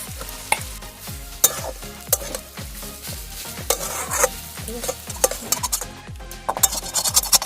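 Mashed boiled potato, fried spices, peanuts and coconut pieces are stirred and fried together in a pan for vegetable chops, with steady rhythmic scraping strokes over a continuous close sizzle.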